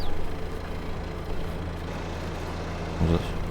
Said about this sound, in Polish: Silnik oczywiście zaciąga, ale to nic.